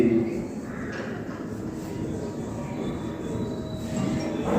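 A train rolls on rails with a continuous rumbling clatter and faint wheel squeal, heard from close by, with muffled talk in the background.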